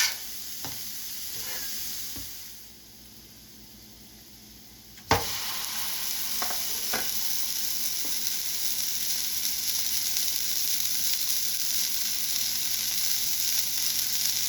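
Meat, onions and peppers sizzling on a Steelmaker flat-top griddle while cooking sloppy joe filling, a steady close frying hiss that dips briefly, then swells again with a sharp clank and a few light scrapes.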